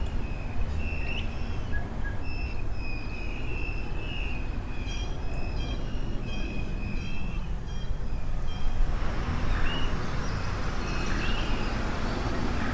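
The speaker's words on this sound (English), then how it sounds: "A train heading west approaches." A westbound train approaching through the Allegheny Mountains, a continuous low rumbling roar that grows slightly louder toward the end, with faint birdsong over it.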